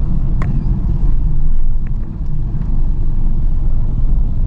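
Low, continuous rumble of slow street traffic in Makati, engines idling and creeping along with a faint horn-like tone at one moment, heard from inside a nearby vehicle.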